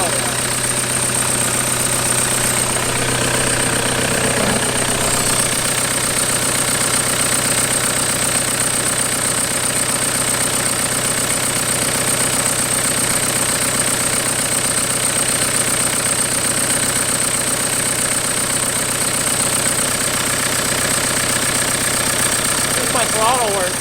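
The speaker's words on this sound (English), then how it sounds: "Weird, it sounds creepy, but that's the diesel, right?" A 1991 Toyota pickup with a swapped TDI diesel engine idles steadily and loudly, with a rough, knocking mechanical clatter and a constant drone; people talk over it.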